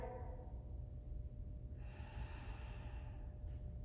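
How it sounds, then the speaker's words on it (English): A person taking a deep yoga breath during a core and shoulder flow, a soft, quiet inhale and exhale close by over faint room noise. "Deep breath."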